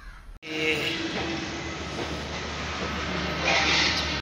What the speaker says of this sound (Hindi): अभी हम मेट्रो से उतर आ गए हैं,